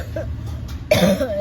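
A woman with a cold coughs once, sharp and close, after a stretch of quiet indoor background hum in a shop.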